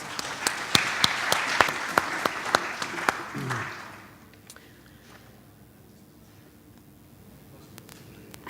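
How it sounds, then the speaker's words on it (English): A convention audience applauds its panelists with several seconds of close, crisp clapping. The sound thins out and fades to quiet room tone by the halfway point. "applause for our panelists"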